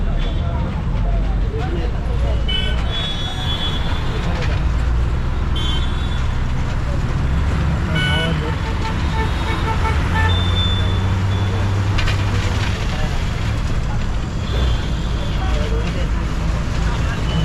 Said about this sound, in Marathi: थंडी लागते आपली गाडी निघालेली आहे